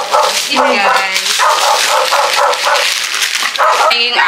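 A dog barks and yips loudly up close, sounding excited and whiny, with repeated high yelps in quick succession over several seconds.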